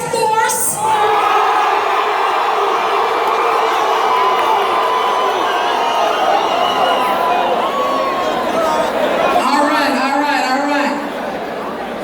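A large crowd cheers and whoops at a Red Bull Culture Clash sound clash in Jamaica, a loud, continuous roar of voices with shouting that fades slightly toward the end.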